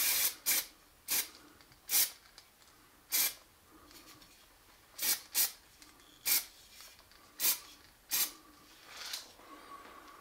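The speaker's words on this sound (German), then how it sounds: "dann wäre jetzt der Zeitpunkt, das Ganze im Prinzip ein bisschen anzusprühen" Short bursts of spray paint on a fiberglass crossbow limb, about a dozen separate hissing puffs at uneven intervals, close and fairly loud against a quiet background with no talking.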